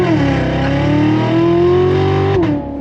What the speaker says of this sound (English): Love the sound of that supercharged V8